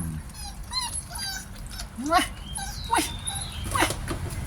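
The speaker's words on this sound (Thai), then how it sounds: "ไอ้ลูกหมาไอ้ลูกหมาหน้าย่น" Wrinkle-faced puppies whimper and let out high yips and small barks, near and fairly loud, with someone talking over them throughout.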